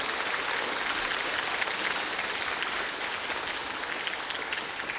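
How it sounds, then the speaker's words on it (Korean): Audience of children at a children's national assembly event in the National Assembly hall applauding, a continuous, fairly soft wash of clapping sustained evenly throughout. "이때는 박수를 한번 치셔야죠."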